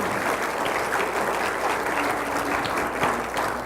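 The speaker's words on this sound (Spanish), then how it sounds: "Vamos a darle un aplauso al Rey de Reyes y Señor de Señores, el Santo de Israel." A church congregation applauds in a loud, sustained, full roar of clapping from many people, even and unbroken from start to finish.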